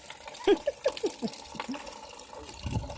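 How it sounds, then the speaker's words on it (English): Water splashes and trickles into a basin in Jamaica in a series of short gurgling pours, fairly quiet and close, followed by a softer rushing at the end. "you get one basin and you fill it up with some water here"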